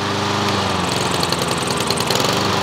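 A Honda walk-behind lawn mower engine running at full throttle, a loud, steady, close-up roar with a rapid, even putter and no pauses.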